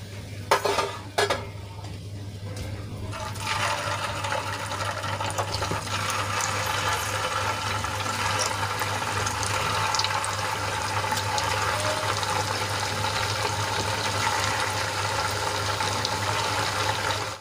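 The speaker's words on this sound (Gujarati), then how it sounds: "આ જ રીતે બીજો પણ તળીને તૈયાર કરી લઈશું." A semolina and potato snack deep-frying in hot oil, a continuous dense bubbling sizzle that holds steady and close after a few brief knocks at the start.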